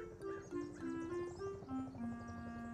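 Quiet, steady clip-clop of a horse's hooves trotting along in a video game, with faint tonal game sounds layered underneath.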